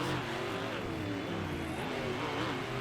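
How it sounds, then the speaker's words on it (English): Off-road racing trucks roar at the start of a race on a dirt track, a dense, steady engine din heard from a distance with shifting revving tones throughout. "Both trucks staged, ready to go, and we're going green to close out the semifinals"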